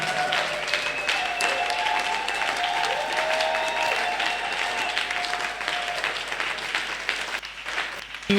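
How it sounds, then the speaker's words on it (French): A church congregation at a prayer marathon applauds loudly and continuously, dense clapping filling the room for several seconds with faint voices and tones beneath before it tapers off. "Acclamons très fort le Seigneur."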